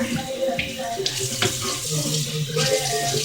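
Running tap water rinses a cutting board in a kitchen sink, a steady close splashing stream with brief clatters of the board, continuing throughout without talk.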